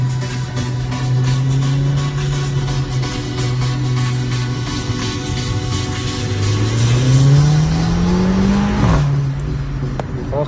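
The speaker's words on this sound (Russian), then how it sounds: "Вот этот выхлоп, когда громкий, они просто останавливаются." A loud car exhaust revs hard, engine pitch holding, dipping, then climbing steeply before dropping off, close and continuous over about ten seconds with no talk.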